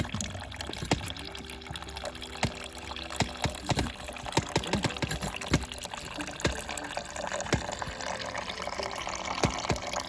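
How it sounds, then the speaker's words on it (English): Fresh grape juice running out of a grape press, a soft continuous trickle and splatter of liquid with scattered drips, faint and close, with no talking. "and you can hear the juice coming out."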